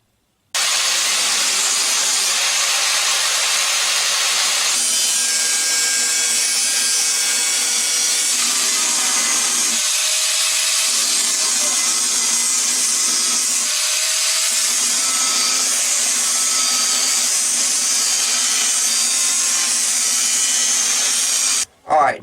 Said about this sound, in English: I took a cutoff wheel and I cut on all my lines at least halfway through the metal